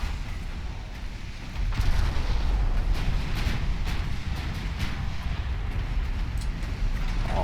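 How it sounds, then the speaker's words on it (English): Rumbling warship broadside artillery fire in the naval video game Ultimate Admiral Dreadnoughts, a dense run of booming shots and blasts over a low continuous roar. "Oh, that was a really rough broadside there."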